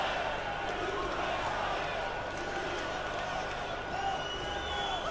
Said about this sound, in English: The crowd shouting USA